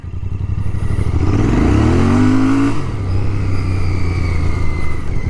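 Royal Enfield Bear 650 with its 650cc engine ridden on a soft road with the tyre sliding: a loud, close engine roar that climbs in pitch, then settles into a steady heavy rumble.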